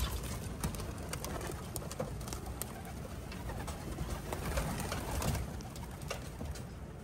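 Pigeons coo softly and repeatedly in the rain against a busy background of fluttering wings and scattered bird noise, with no talking.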